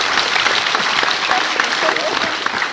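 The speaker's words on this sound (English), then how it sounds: "After wow stories, we always clap." A group at a Ritz-Carlton staff gathering applauds with loud, dense, continuous clapping that holds steady from start to finish.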